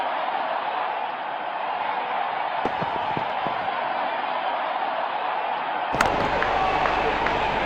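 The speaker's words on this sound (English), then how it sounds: "Here come the openers, greeted with a loud cheer from." Crowd cheering greets the opening batsmen walking out for a Pakistan vs India match in the World Cricket video game, a steady, loud wash of stadium noise that swells sharply near the end.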